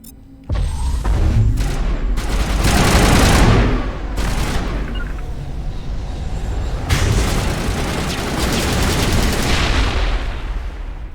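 Sustained gunfire in the video game Mass Effect, loud bursts of automatic weapon fire and booming impacts rolling on for several seconds with barely a pause.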